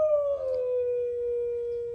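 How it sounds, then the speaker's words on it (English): A dog howls in one long, steady, mournful note that slides slightly downward, close and loud, in a home workshop during an antique cast iron claw-foot bathtub restoration. "Excuse the dog."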